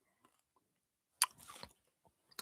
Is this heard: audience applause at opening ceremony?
no